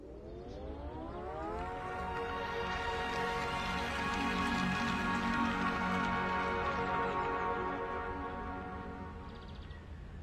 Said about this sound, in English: 500 has the only engine able to play a melody.